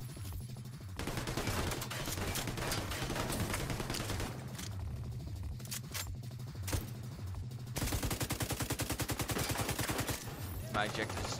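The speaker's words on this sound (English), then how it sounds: "I have a minigun" A minigun fires in The Division 2, sending out long, fast, continuous bursts of automatic fire with brief breaks between them, loud and close, mixed with other game sounds.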